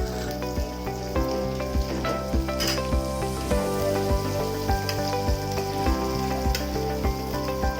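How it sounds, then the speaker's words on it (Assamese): Sliced onions fry in hot oil with whole cumin seeds for an Assamese sesame fish curry, a steady, loud, close sizzle that runs throughout under rhythmic background music with a regular beat. "পিঁয়াজখিনি ৰঙা হোৱাকৈ 10 মিনিট ভাজিলোঁ।"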